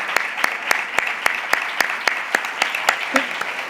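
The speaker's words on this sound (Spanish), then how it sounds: "Un fuerte aplauso para los compañeros." Rhythmic unison clapping from a crowd at an Izquierda Unida political meeting, sharp claps landing at a steady, quick beat for several seconds, loud and close.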